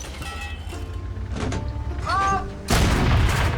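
An artillery shell hits in World of Tanks: a loud, broad boom crashes in near the end and rings on, after quieter engine rumble and a few brief tonal game sounds.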